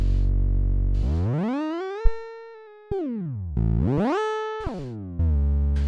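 A synthesized triangle wave from Renoise plays as several loud tonal sweeps, the pitch gliding up and down between sustained held notes, with brief gaps and sharp clicks between phrases.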